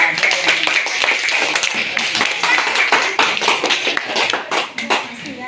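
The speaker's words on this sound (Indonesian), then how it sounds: "Tepuk tangan untuk kelompok 2" Classroom of fifth-grade pupils clapping for a group after its presentation, a dense run of sharp hand claps close by, with children's voices chattering underneath.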